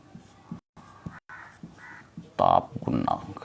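Writing on a board during a chemistry lesson: short scratching and tapping strokes, with a louder squeaky, scraping burst near the end, heard close and mixed with a teacher's speech.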